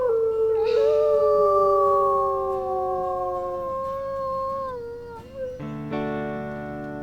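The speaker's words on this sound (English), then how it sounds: "Yeah, just howl." Wolf howling in the video game WolfQuest Anniversary Edition: a long, loud, sustained howl with overlapping voices sliding slowly downward, followed by a second, shorter burst of howling near the end.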